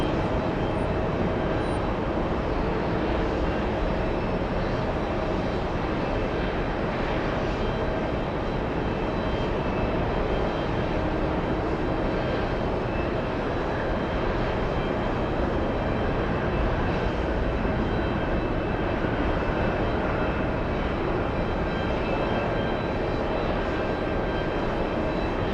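An airliner on an Atlanta flight, captained by Ken Mobile, takes off at an airport, a steady loud jet roar sustained throughout without any talk.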